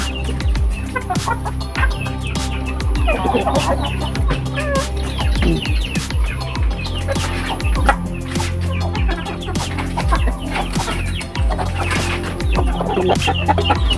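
Chickens cluck steadily throughout, several birds close by with overlapping calls over a constant background hum.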